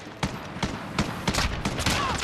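Rapid gunfire in Call of Duty Warzone, a string of sharp shots spaced roughly every third of a second over busy game ambience, fairly close and loud.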